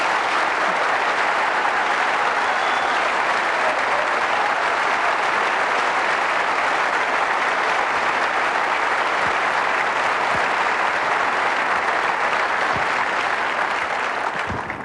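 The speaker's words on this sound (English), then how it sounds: "You may applaud." Theater audience at a 2003 Democratic presidential debate at the Orpheum Theatre in Phoenix applauds in a dense, steady roar of many hands, sustained and loud throughout.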